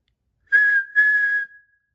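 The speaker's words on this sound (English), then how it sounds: "whistled Thomas, and off he went into the gently falling snow" Thomas the Tank Engine's whistle sounds in a Christmas storybook, two clear, bright blasts close together, the second held slightly longer, against silence.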